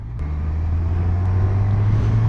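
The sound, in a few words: Yamaha 900 Diversion motorcycle engine while riding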